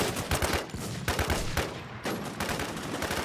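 Rapid gunfire in the online zombie survival game Infestation: The New Z, loud repeated bursts of shots with brief gaps, continuous throughout.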